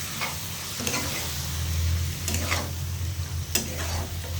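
Water from ground spice paste goes into a hot frying pan for a potato, cauliflower and paneer dish, giving a steady close sizzle with intermittent stirring scrapes and no talk.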